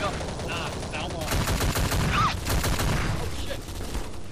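Shotgun and gun fire in a Garry's Mod Gun Game match: repeated sharp shots in quick succession over a steady game background, with a voice talking over the action.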